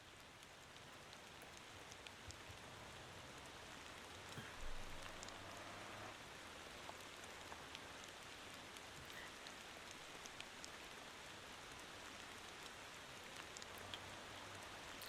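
Steady, dense rain patters throughout in a Korean bus-driving video game, a continuous wash of drops on surfaces with a faint low engine hum beneath and no voices.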